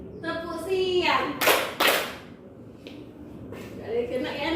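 Children clap hands in a classroom clapping game, a few sharp bursts of claps between lively chanting voices, with a teacher speaking nearby.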